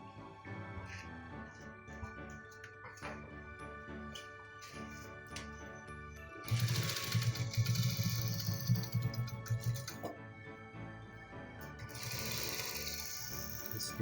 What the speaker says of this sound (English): I'm going to make a stitch